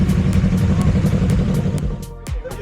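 Many motorcycles rumble and rev close by at a riding group's season-closing meet, engines idling and pulling in continuously, with a louder pass and a sweeping engine note near the end.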